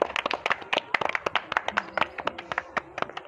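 An audience claps at an outdoor eating challenge where contestants race to eat jalebi with a cold drink, with sharp, fast, uneven claps close by running throughout.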